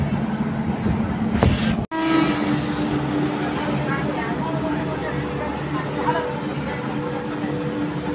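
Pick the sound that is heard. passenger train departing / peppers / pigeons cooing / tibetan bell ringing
passenger train departing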